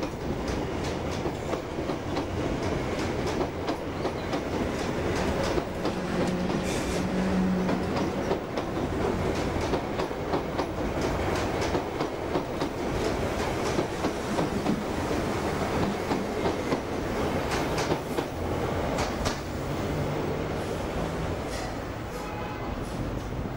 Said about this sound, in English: A few of the Class 312 slam door trains were still in service at this time.